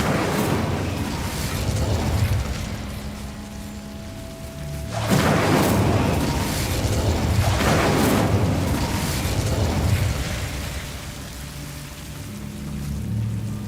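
Whooshing fire bursts from the Incendio spell in Hogwarts Legacy, a loud roaring flare arriving around five seconds in over a steady rumbling game backdrop, followed by further swelling surges.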